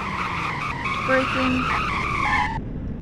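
A car in the Greenville racing video game brakes hard, its tires screeching in a steady, shrill skid for about two and a half seconds before cutting off abruptly. No one speaks.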